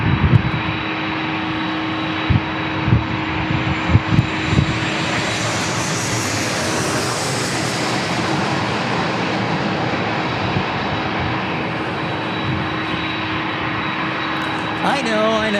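An arriving airliner at San Diego International Airport roars past, a broad jet rumble swelling to a peak mid-clip and then easing off, with people talking over it at the start.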